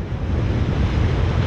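Strong wind at the bow of a boat crossing the IJsselmeer, a dense, continuous roar buffeting the microphone with the wash of water and waves mixed underneath.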